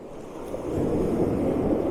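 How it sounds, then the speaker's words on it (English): Sea waves roll in around sea stacks on the UK south coast, a low, rushing wash that swells after a moment and stays steady, mixed with some wind noise. "as the waves come in, like that one there"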